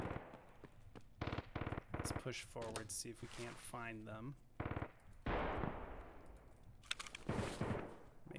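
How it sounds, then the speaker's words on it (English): Bursts of automatic and single gunfire in Escape From Tarkov crack in rapid volleys with pauses between them. Someone talks over and between the shots. "Oof, it is a lot of gunfire."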